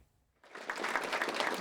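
Applause breaks out as a former prime minister walks into a farewell ceremony. After a brief silence the clapping starts abruptly and holds steady as a dense, moderately loud patter from a room full of people.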